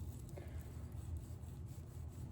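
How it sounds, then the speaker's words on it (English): Pocket knife blade scraping carbon off a rifle bolt, a faint, steady low grinding rasp with a few light scratching strokes, close and quiet. "you can get a pocket knife and slowly just grind it upwards, and it drags it right off"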